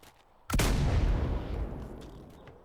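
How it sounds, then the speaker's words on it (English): A mortar fired on a video game roleplay server: one sharp, loud, close launch that blooms into a deep, booming roar and slowly fades over about two seconds. "Where did you fire that? Oh, it's just a mortar test."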